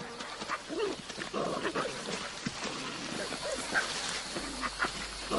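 Dog-like yips, whimpers and short barks from a dingo, the Australian wild dog, scattered across a few seconds of outdoor ambience at moderate distance.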